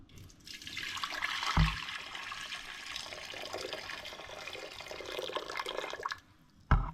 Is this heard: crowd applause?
no